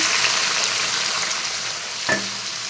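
Cut bottle gourd pieces go into a frying pan for a curry. A continuous hiss of frying runs throughout, and one brief splash-like burst near the end marks the pieces landing.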